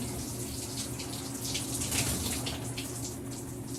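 Shower water streams steadily while hair is rinsed during a curly hair routine, a continuous close hiss of spray and splashing with no talking.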